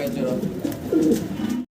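Pigeons for sale at a pigeon market coo softly nearby, a low burbling call rising in the middle, over light background chatter.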